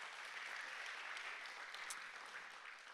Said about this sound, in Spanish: Entonces, denle un aplauso a Él.